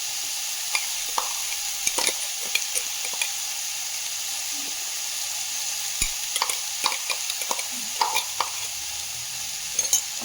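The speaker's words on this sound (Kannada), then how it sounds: "ಸ್ವಲ್ಪ ಹಸಿ ವಾಸನೆ ಹೋಗುವವರೆಗೂ ಸ್ವಲ್ಪ ಬಾಡಿಸ್ಬೇಕು." Ground paste of mint, coriander, garlic and ginger sautéed in a pan, giving a steady close sizzle broken by frequent scraping clicks from stirring, with no voices.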